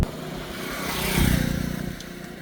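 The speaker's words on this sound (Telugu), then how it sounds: "అసలు సౌండ్ దీనిదేనా ఈ సైలెన్సర్ అర్థమవుతలేదు" A motorcycle with a modified exhaust silencer, fitted with pieces of tube, gives a close, rough engine rumble that rises briefly and then settles back to a steady idle.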